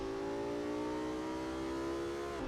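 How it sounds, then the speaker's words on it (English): A powerful Audi V10 race car engine in a racing video game revs steadily at a high pitch, holding its drone loud and close before dropping briefly near the end. "clear for takeoff in this massive V10 Audi engine"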